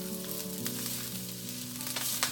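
Carrots and green peas sizzle and crackle as they are stir-fried for pork adobo fried rice, a steady, moderately quiet frying hiss over soft background music with no one talking.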